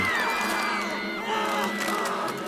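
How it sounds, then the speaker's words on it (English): In the Tiny Bunny video game, a school crowd of students whistles and roars, a dense, loud swell of shrill whistles and roaring voices that grows throughout. "the crowd around her became louder. It started whistling and roaring and growing."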